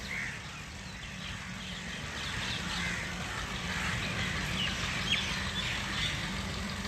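Crows cawing in old mulberry and lasura trees of a woodland beside a canal in rural South Punjab, a continuous chorus of overlapping calls at middle distance over steady outdoor background noise.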